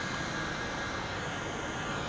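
1/5 scale Rampage MT RC monster truck accelerating under more throttle, a loud, steady, close whine and roar filling the whole short stretch with no pause or talking.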